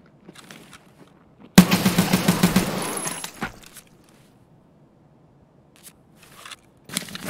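A burst of gunfire in the video game Escape from Tarkov, a loud rapid volley of about two seconds followed by quieter scattered shots and faint rustling movement.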